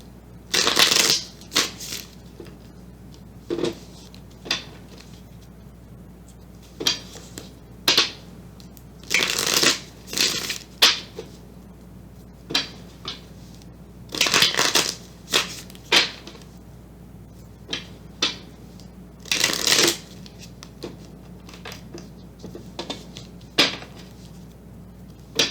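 Tarot cards are shuffled by hand in repeated crisp riffling bursts with short pauses between them, close to the listener over a quiet room. No one speaks.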